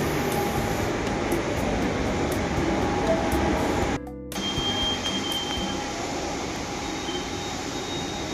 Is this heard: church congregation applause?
no